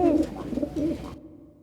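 A pigeon coos nearby in a rhythmic series of soft, throaty, rolling calls, about three pulses, then the sound cuts off abruptly.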